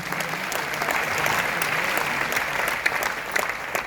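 An audience at a DXN product meeting in India breaks into sustained, even clapping that carries on for several seconds without interruption.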